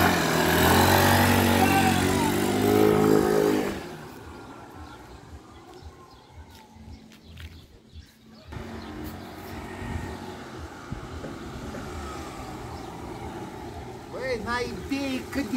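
An Aprilia Scarabeo 100cc motor scooter engine buzzes loudly up close, then drops away to a quieter, distant drone as voices talk over it.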